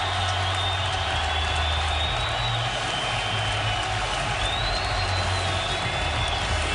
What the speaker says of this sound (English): And the crowd on its collective feet.